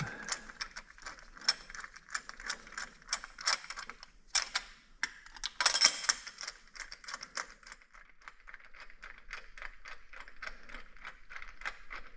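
A hand ratchet clicks rapidly and steadily while snugging spark plugs on a Mitsubishi 3000GT DOHC V6, with brief pauses and a few louder metallic bursts in a quiet garage, no talking.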